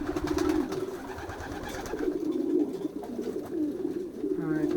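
Pigeons coo steadily in low, throaty bursts, several birds close by, with a faint voice or two murmuring in the background.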